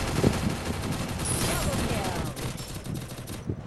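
Loud, dense gunfire in the Free Fire battle royale game as a headshot is taken, with continuous crackling shots and rattling bursts close up throughout.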